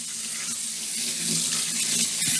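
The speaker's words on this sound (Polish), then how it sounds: "I teraz płuczemy te śledzie zimną wodą." Cold tap water runs steadily over herring in a coarse-mesh sieve, a loud continuous splashing hiss close by with no talk.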